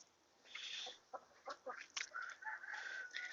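Chickens cluck and squawk close by in a short, lively burst of overlapping calls, with quieter farmyard background between them.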